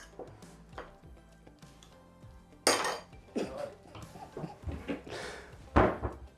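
Bowls, pans and utensils clatter and clink in a kitchen while quesadillas are being made, in close, irregular bangs and scrapes with one sharp louder knock.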